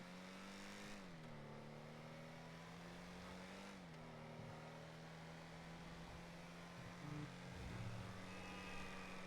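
A car driven in the FiveM video game hums with a steady mid-pitched engine drone that dips and shifts gear around one and four seconds, carrying on evenly at moderate loudness with no talk.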